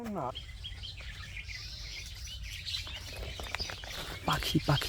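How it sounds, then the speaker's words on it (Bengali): Birds chirp and twitter outdoors beside an oxbow lake in rural Bangladesh, with bright bursts of calls at the start and again near the end over a low steady background rumble. "পাখির কিচিরমিচির আওয়াজ"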